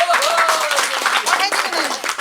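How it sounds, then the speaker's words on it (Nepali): Audience applause for Jerry at a Nepali live tukka and dohori show: steady, dense clapping fills the whole stretch, with a voice or cheer carrying over it. "जेरी बहिनीलाई जोरदार ताली दिउँ।"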